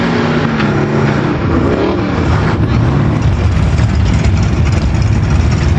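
A 1979 Chevy Z28 Camaro with a 4-speed manual roars loudly at a drag strip, its heavy engine droning and revving continuously with no pauses.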